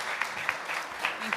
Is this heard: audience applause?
yes